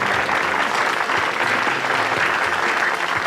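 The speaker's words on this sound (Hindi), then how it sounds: "जोरदार तालियां प्लीज।" A studio audience claps in a steady, dense burst of applause that keeps an even loudness throughout, with no voices on top.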